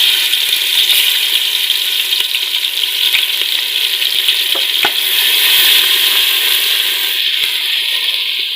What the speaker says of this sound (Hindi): इसके बाद इसमें हम डाल देते हैं लहसुन और सब्ज़ मिर्चों का पेस्ट।